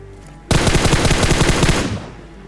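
An M249 machine gun fires in a video game: a sudden, loud, sustained burst of rapid shots lasts about a second and a half, then cuts off into a brief fading tail.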